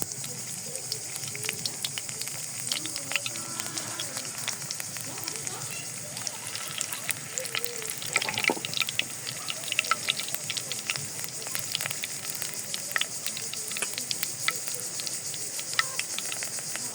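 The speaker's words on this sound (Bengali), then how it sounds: "এখন পাতাগুলো বেসনে চুবিয়ে আমি তেলে ছেড়ে দিব।" Leaves of the elaichi plant dipped in gram-flour batter sizzle in hot oil for fritters, giving a steady, dense crackle and hiss that holds for the whole stretch, with a brief louder burst of spitting partway through.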